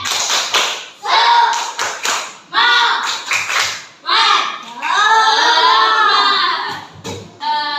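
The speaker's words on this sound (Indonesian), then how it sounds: "Tepuk semangat." A classroom of students performing a rhythmic spirit clap led by their teacher, with loud, sharp bursts of claps in patterned groups alternating with chanting voices.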